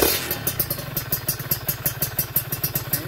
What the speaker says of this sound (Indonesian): Kita akan coba blayer ya.